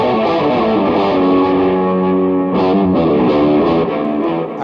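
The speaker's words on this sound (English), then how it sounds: "Let's put some distortion and then let's try some lower octave type of thing." Distorted electric guitar runs through an Electro-Harmonix POG 3 octave pedal with a lower octave added, thick, loud sustained chords changing a few times with no talking.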